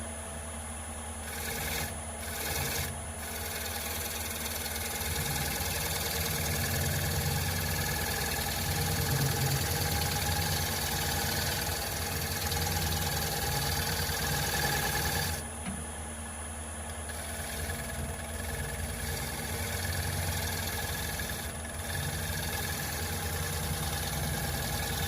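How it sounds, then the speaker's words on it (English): Wood lathe spinning an off-center bowl while a gouge takes a light shaving cut, a steady close mechanical hum with constant tool chatter for the whole stretch and a few brief dips where the cut pauses. "So I'm just doing a light shaving cut here to get rid of any tear out"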